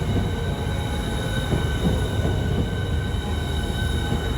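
A pair of Class 395 trains pulls into a London terminus platform, a steady broadband rumble with faint wheel squeal and a high station hum throughout.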